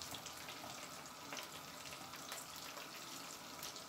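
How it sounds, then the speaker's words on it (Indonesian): Shallots dropped into hot oil for a beef steak dish crackle in a steady, dense sizzle, close and fairly quiet, with small bursts of spitting throughout and no talking. "saya mau masukkan bawang merah"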